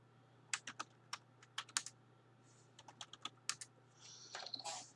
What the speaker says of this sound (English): I'm just typing that